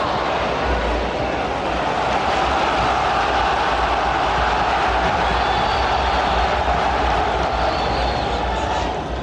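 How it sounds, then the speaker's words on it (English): A dense, constant roar of the Blackburn Rovers home crowd fills a Premier League stadium during a 1993/94 match against Chelsea, loud and unbroken throughout. "Home crowd getting behind Blackburn now."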